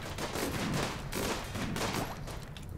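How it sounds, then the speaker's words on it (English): Dense, continuous gunfire from the video game RimWorld, a steady rattling fusillade of overlapping shots filling the whole stretch at a fairly loud level with no talking. "You guys should be shooting here."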